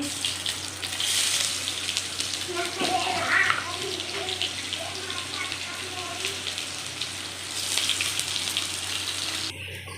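Sliced onions dropped into hot oil already sizzling with cumin seeds and bay leaves for a chicken pulao: a steady, moderately faint sizzle and hiss that holds through the whole stretch with no talking over it.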